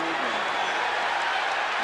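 Basketball arena crowd cheering steadily at an NBA game with the 76ers, a broad continuous roar of fans throughout, with a voice faintly under it.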